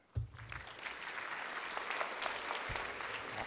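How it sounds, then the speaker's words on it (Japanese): An audience at a conference talk breaks into applause after a brief thump, sustained clapping from a crowd at moderate volume, with no speech over it. "皆さん大きな拍手でよろしくお願いします"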